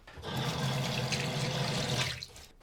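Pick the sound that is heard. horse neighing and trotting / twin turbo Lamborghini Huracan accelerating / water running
water running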